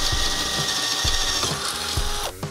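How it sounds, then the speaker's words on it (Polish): A Parkside PBSA 20-Li A1 cordless drill runs at higher speed while drilling, giving a close, steady motor whine with rhythmic knocking and grinding pulses as the bit bites, ending abruptly. "daję na większe obroty i przystępuję do wiercenia jeszcze raz"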